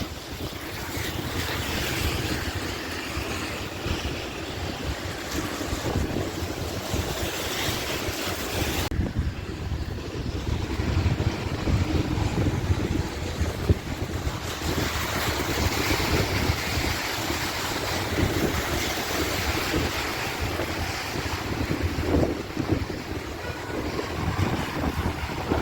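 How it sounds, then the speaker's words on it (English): Wind gusts along a rain-soaked New York City street in a continuous, roaring whoosh that buffets the microphone. It lasts unbroken, with a brief dip before swelling again. "And it's windy out here too."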